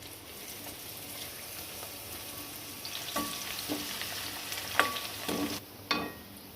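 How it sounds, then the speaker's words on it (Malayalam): Oil sizzling and crackling in a pan as crushed garlic fries, a steady hiss with a few sharper pops and stirring clinks, no voices. "കഷ്ണം വെളുത്തുള്ളി ചതച്ചു വെച്ചിട്ടുണ്ട് ഇതുകൂടി ഒന്ന് വറുത്ത് കോരിയെടുക്കണം"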